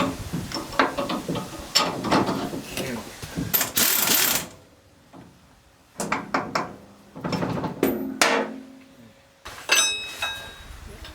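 Land Rover leaf spring U-bolt nuts being done up by hand, with irregular metallic clicks, ratcheting and clanks in short bursts separated by pauses, fairly close.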